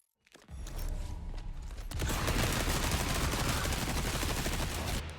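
Rapid submachine gun fire in the Resident Evil 4 video game, a dense, sustained burst of shots that builds quickly and continues loudly to the end, with an explosive rumble underneath.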